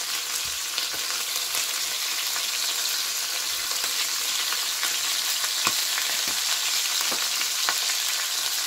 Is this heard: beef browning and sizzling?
yes